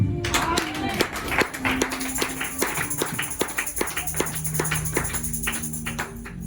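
Congregation at a church service clapping together to acclaim Jesus, a steady rhythmic run of claps with a voice speaking over it and a sustained tone beneath.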